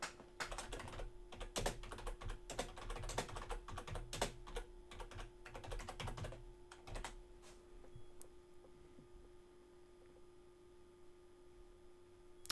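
Rapid, close keystrokes on a computer keyboard rattle in dense bursts for several seconds, then taper off into a faint, quiet room hum with an occasional lone click.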